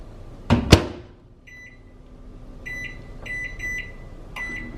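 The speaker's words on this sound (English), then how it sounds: "So I'm going to put this in the microwave for about 3 minutes." A couple of sharp clunks as a microwave oven door shuts, then a run of short electronic keypad beeps over a faint low hum.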